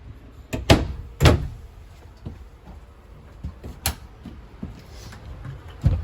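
A small medicine cabinet door in a 2020 Wildwood 28FKV travel trailer clicks and taps open and shut several times, with sharp light knocks scattered over a quiet room.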